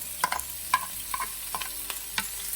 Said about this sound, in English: So the onions, sweat them down a little bit.